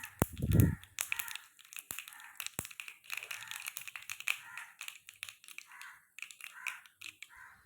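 Mustard seeds splutter in hot oil in a small tempering pan, with rapid, irregular crackles and pops, close and fairly faint, after a brief louder clatter at the start.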